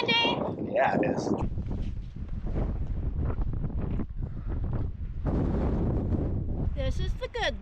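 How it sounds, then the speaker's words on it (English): Gusty wind buffeting the microphone in low rumbling bursts at Glacier National Park, Montana, with people talking intermittently over it. "It's windy."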